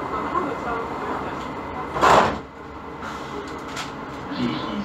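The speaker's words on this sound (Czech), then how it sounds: "dveře se zavírají" Prague Metro line C train doors slide shut in a single rushing burst with a thud, set against steady carriage rumble and a background voice.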